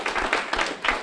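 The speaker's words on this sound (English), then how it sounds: "I'd like to give her a round of applause" Brief burst of crowd clapping for an interim athletic director at a university head football coach announcement, a quick cluster of hand claps in loose rhythm, moderately loud and without talk.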